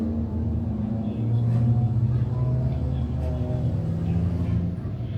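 Open four-cylinder Thunderstock race cars at a speedway running a qualifying heat, their engines a steady, loud, continuous drone and rumble with no clear pass-bys.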